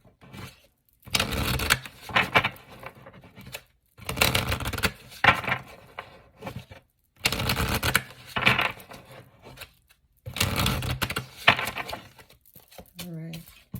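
Oracle cards shuffled in four bursts of dense, crackling riffles separated by short pauses, close to the listener, with a brief voice near the end.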